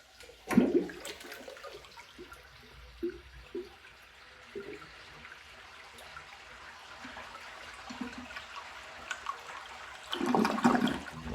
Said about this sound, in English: Let's give this a flush and then see how it does on tests.